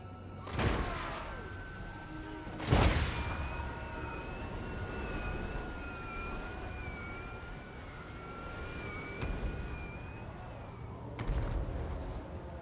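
Mortar fire in the video game Total War Warhammer gives several sharp, distant-sounding bangs spaced a couple of seconds apart, over a steady whining battle drone.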